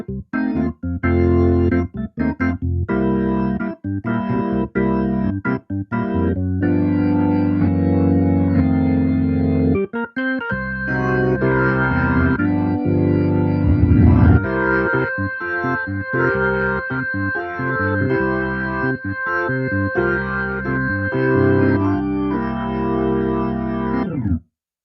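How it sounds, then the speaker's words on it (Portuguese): Hammond organ, sustained keyboard chords and melody with a steady held tone throughout, played alone and fairly loud with no voices. "esse aqui é o som do Hammond."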